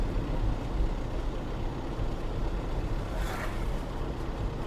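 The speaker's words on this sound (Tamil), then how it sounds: "வண்டி அப்படியே 1000 ஆர்பிஎம்லேயே அசால்ட்டாக 35-40 அப்படின்றது வந்து ஃபோர்த்து கியரில் கேஷுவலாக வந்து போய்கிட்டு இருக்கு, உதறல் இல்லாமல்" A new Force Traveller N van cruising steadily in fourth gear at about 1000 rpm, a low, even engine drone and road rumble filling the cabin without pause.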